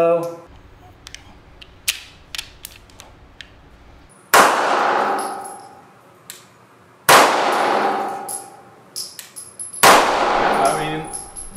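A BUL SAS 2011 1911 pistol fires hollow-point ammunition at a range target: sharp, loud shots spaced a few seconds apart with ringing decays, among fainter clinks and small metallic clicks.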